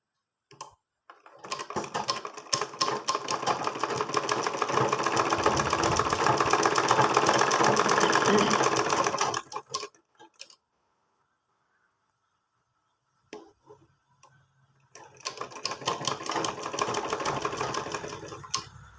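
An electric sewing machine stitches cloth with black thread in a loud, rapid, steady mechanical rattle that runs for several seconds, stops, then starts again after a quiet pause.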